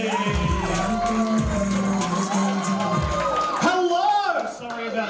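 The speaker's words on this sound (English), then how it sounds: "Let's get your applause on" A comedy club crowd at a live stand-up show cheers, whoops and applauds loudly and continuously for a comedian taking the stage, with shouts rising through the noise.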